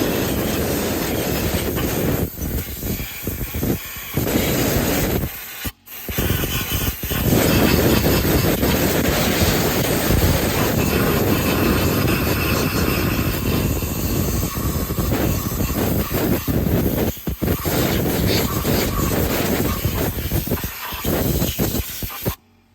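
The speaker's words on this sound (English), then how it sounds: "I'm going to run compressed air into the spark plug wells to remove all the debris that can come out of there" Compressed air blasts into the spark plug wells of a 2006 Dodge Dakota 4.7L engine, a loud, continuous hissing rush with a few short breaks where the nozzle stops and restarts.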